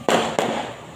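Two sharp firecracker bangs burst close and loud in quick succession, each followed by a brief decaying crackle and rumble, with no talk over them.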